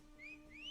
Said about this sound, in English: Whistle, call mount.